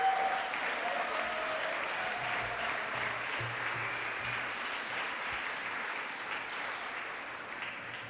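A young audience applauds at a Quebec student entrepreneurship gala in Montreal, sustained clapping from a large crowd filling the room and slowly tapering.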